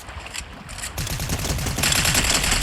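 Gunfire crackles in a video game as rapid, loud bursts of automatic shots follow a brief quieter opening.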